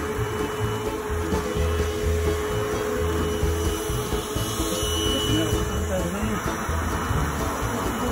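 A bee vacuum sucking up clustered honeybees during a hive removal from a condemned building, giving a constant whining motor hum at close range with an even, unbroken drone.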